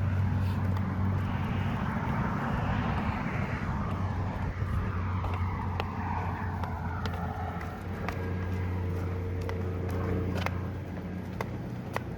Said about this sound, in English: It is right up next to this road here, so there's some traffic.